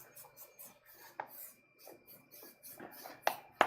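Short scraping and rubbing strokes as paint is rubbed off a wooden sign, irregular and close, ending with a couple of sharper rasps.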